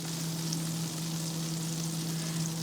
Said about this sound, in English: We're going to add 1/2 a stick of butter, which is 4 tablespoons, and we're going to let it melt